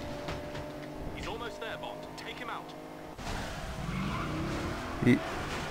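Car skidding and spinning after a crash in the James Bond 007: Blood Stone video game, with engine and tire noise shifting midway, under talk and a short bright hit near the end.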